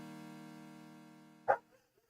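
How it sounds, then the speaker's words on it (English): A dog gives a single loud, sharp bark near the end, following a steady droning tone that fades out beforehand. "you probably can hear my dog because she's very loud right now"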